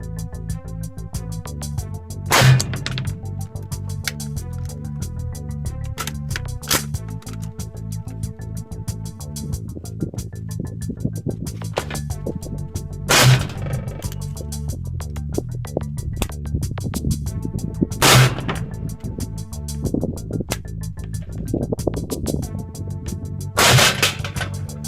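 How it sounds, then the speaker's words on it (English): Five sharp rifle shots fired through a 74 muzzle brake crack out at uneven intervals, each a loud close blast standing out over a steady background hum. "I've got my 74 muzzle brake on here, and I'm gonna just put 5 more rounds in and see what we can learn from this"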